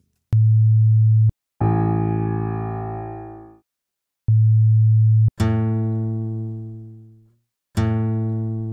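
Plain sine wave tone at an instrument's fundamental frequency, played as steady one-second beeps that alternate with a richer plucked instrument note decaying slowly. The pattern repeats with clean gaps in between.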